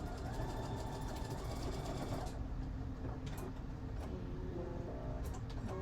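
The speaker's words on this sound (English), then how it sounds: "I'm just going to scrunch it down a little further on the machine." A sewing machine stitches shirt fabric, a close, loud rapid mechanical chatter that runs steadily, easing slightly partway through with small clicks as the cloth is guided.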